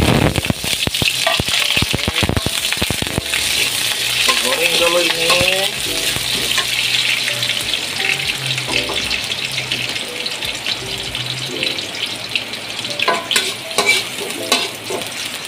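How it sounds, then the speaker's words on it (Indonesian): Tom yum sauce fries and sizzles in a pan while it is stirred, with loud scraping and clattering at the start, then a steady crackling sizzle that stays close and continuous. "Okay, kita goreng sos lah."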